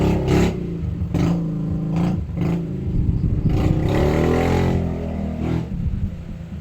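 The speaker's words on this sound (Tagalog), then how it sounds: "Dako kay tingog ang motor anak ba?" A loud motorcycle engine rumbles and revs near a small shop during heavy, windy rain, its pitch rising and falling over a continuous roar with no talking.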